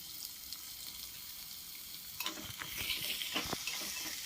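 Chopped onion and tomato fry in hot oil in a pan, giving a soft, steady sizzle. Partway through, stirring adds a quiet clatter and scraping.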